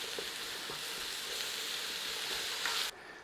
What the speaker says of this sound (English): I'll chuck a little bit of oil in and we're going to give that a little fry.